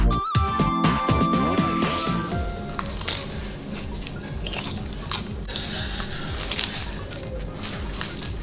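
Crunchy bread (ragag) filled with egg and cheese is bitten and chewed up close, with repeated crisp cracks and crunches at an irregular pace.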